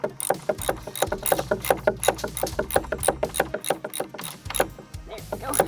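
Ratchet wrench cranking bolts into place in a tight gap on a shed-to-house conversion build, rapid repeated clicking strokes in uneven bursts, close and fairly loud, no talking.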